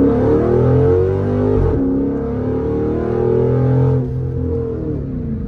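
Dodge Charger SRT8 V8 launching with excessive wheel spin, a loud sustained engine roar with rising and falling revs and a sharp break partway through, heard up close.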